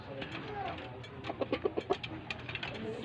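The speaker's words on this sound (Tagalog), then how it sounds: "Ang aking manok na Texas" Gamecock rooster clucking and calling in a short burst of clipped notes, fairly faint over a low background hum.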